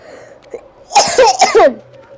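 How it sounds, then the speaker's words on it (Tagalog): A person coughs in a quick cluster of about four harsh bursts, close and fairly loud, with quiet game-like background sound before and after. "ako lang yung umubo. Nauubo kasi ako."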